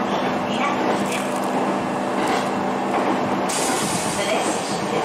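A Joetsu Line local train runs toward Minakami in Gunma, with a steady rumbling hiss of wheels and motors heard from inside the car.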